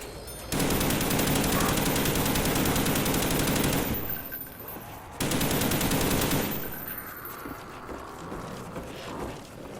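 Loud, rapid automatic gunfire aimed at zombies in Black Ops Kino Der Toten. It comes in two sustained bursts separated by a short pause, and the second burst is followed by quieter game noise.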